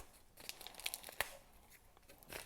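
Cutting open and tearing a shipping package from a sporting goods haul, with faint crinkling plastic, scattered sharp rips and crackles, close but quiet, with no talking.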